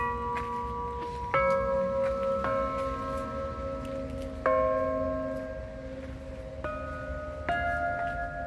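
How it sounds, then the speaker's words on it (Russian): A large church bell in the belfry of the Church of the Prophet Elijah is struck about six times at an unhurried pace, each deep clang hanging and humming into the next. "Вот такой еще тут благовестник. Слышь, такой интересный. Вот такой звук."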